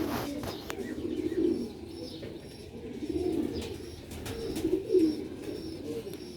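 Pigeons kept on a rooftop in Sialkot coo in soft, repeated, throaty phrases, with a few faint chirps. Light background noise runs underneath.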